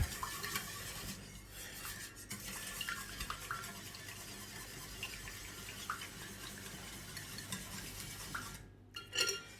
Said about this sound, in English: Just want to get a whisk in here. Give it a nice whisk up.